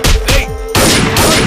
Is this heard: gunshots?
yes